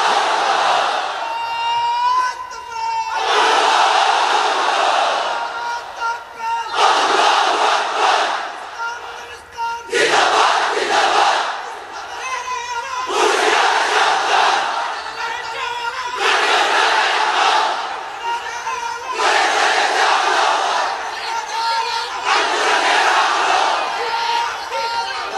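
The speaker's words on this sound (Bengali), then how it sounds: "এক একটা তাকবীরে যাতে এই প্যান্ডেল কেঁপে ওঠে।" A large crowd under a pandal at an Islamic religious gathering chants takbir in loud, repeated bursts about every three seconds, alternating with a leading voice calling out between each collective shout.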